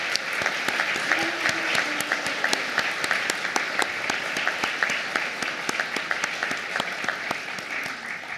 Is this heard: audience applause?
yes